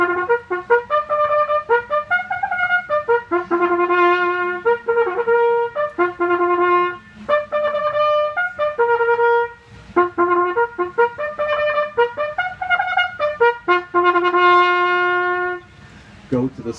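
A bugle plays the cavalry stable call, a lively military call in a bright sequence of short and held notes in a bouncing rhythm, loud and close, with no voices.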